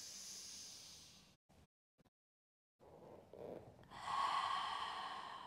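A person exhales audibly during a mat Pilates exercise, a soft breathy hiss that fades, drops into a silent pause, then returns as a stronger, steady close breath, with no talking.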